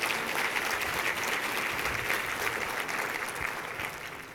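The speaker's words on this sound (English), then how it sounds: "I'd like everybody to give the Chamber a round of applause for bringing us together for this event" A round of applause from the audience at a leadership symposium keynote, for the event's hosting chamber of commerce. It is an even, sustained wash of many hands clapping that thins slightly toward the end, with no voice over it.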